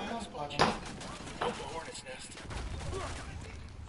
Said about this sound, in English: I heard a gunshot, so I shot.